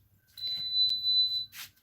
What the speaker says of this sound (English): it does give you enough of alarms that you can